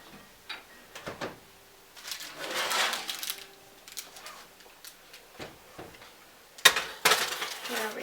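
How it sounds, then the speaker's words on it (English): A baking pan of cross buns comes out of the oven with soft metallic clatter and clinks, scattered bumps and a few sharper knocks near the end, close and fairly quiet. "Our 18 minutes are up, so we're going to take it out of the oven now."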